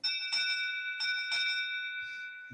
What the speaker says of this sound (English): Like this is going to be like the ship's bell.